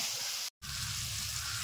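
Food sautéing in a pan with turmeric, a steady close sizzle and hiss that cuts out for a moment before resuming.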